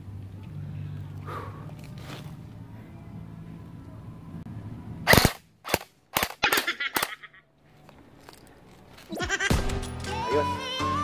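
An airsoft gun fires on full auto in short sharp bursts of rapid cracks at close range, separated by pauses, with quieter background noise before and a tonal sound after.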